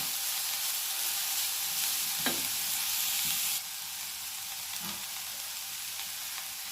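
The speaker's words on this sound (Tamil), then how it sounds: "இப்போ கேரட் எடுத்து போடுறோம்" Carrots sauté with onion and tomato in a pan for carrot ginger soup, giving a close, steady sizzle with a few soft stirring scrapes. The hiss drops slightly midway and continues evenly, with no talking.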